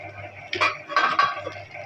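A cooking pot and utensils clink and knock as yardlong beans are added to a katla fish curry on a kitchen stove, a few close metallic clatters over a low steady hum.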